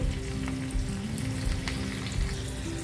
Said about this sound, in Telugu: పోపుని మంచి కలర్ వచ్చేంత వరకు ఫ్రై చేసుకోవాలి